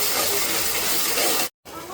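Ginger garlic paste sautéing in a pan, salted, for a rohu fish curry: a steady close hiss and sizzle that cuts off briefly near the end, no talk.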